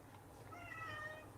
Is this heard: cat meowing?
yes